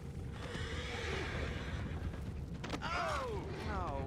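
A horse whinnies twice in the video game Red Dead Redemption, over a noisy background of murmuring and rumble, the neighs rising and falling in pitch, moderately close.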